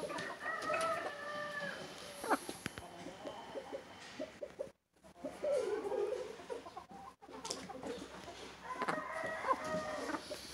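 Laying hens on a poultry farm cluck steadily while a rooster crows more than once, the calls close by over a busy barnyard background with a brief dropout midway.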